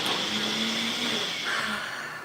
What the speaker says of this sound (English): there goes the blender.